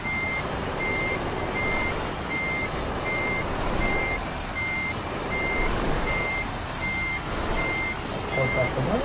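A truck backing up in the Euro Truck Simulator 2 video game, its reversing alarm beeping at a steady regular rhythm over a constant engine rumble throughout.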